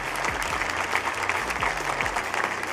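An audience applauds the German team at the FIFAe World Cup 2024 final-day esports event, with steady, dense clapping that holds at full strength for the whole stretch.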